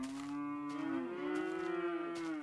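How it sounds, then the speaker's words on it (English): Cows moo in the Minecraft video game. A few long, tonal moos overlap and follow one another closely, clear and alone with no talking. "I think we have found our cows, and they actually have very different sounds."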